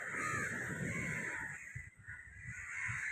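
A crow caws loudly nearby in a harsh, sustained call, then a few more short caws follow after a brief dip.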